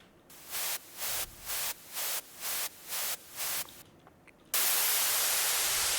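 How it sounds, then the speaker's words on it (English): White noise synthesized in the Vital synth plugin for an electronic song drop: seven short rhythmic gated bursts, then a loud, sustained, full-band hiss. "This is white noise from Vital."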